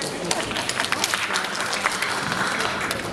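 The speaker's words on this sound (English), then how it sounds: "Please feel free to clap." An audience at a trade week opening event in Nairobi breaks into lively applause, a dense, fairly loud clapping crowd with distinct sharp claps popping out and faint voices mixed in.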